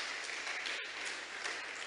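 A church congregation applauding together after a sermon line, a steady dense wash of clapping at moderate level with a brief dip partway through.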